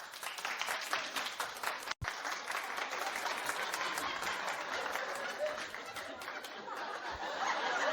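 Studio audience on a daytime talk show claps steadily and loudly, a dense wash of applause with scattered laughter and chatter, briefly cut off once near the start.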